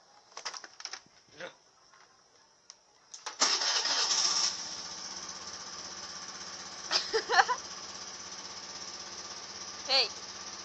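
A motorbike engine starts after some early bird chirps and faint talk, then idles steadily on a street in Bali, with brief louder revs and voices over the running engine.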